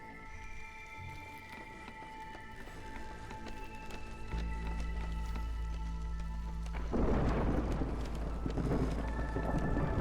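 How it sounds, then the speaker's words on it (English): A thunderstorm in the video game Against the Storm, steady rain building in intensity with a deep rumbling roll of thunder joining partway, no voices over it. "Whoop, storms are rolling in."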